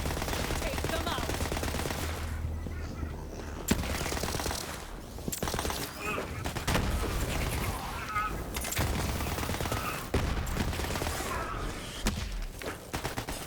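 Hyperion SMG fire in the Borderlands shooter, rapid bursts of automatic gunfire that start and stop repeatedly, loud and close, with impacts and game effects mixed in and no talking.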